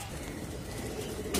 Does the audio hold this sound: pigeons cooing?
yes